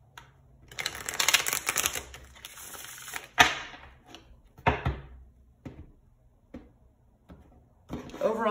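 A deck of tarot cards being shuffled by hand: a long riffling burst followed by several short, sharp slaps and taps as the cards are squared, close and fairly quiet.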